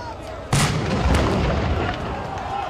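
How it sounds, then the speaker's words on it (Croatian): A cannon fires over the Luka bridge in Metković on the Neretva river to start the boat marathon: one sudden loud boom that rolls off into a long rumbling echo over outdoor crowd ambience. "Pucanjem topa nad Lučkim mostom u Metkoviću zapjenila se i uzburkala Neretva"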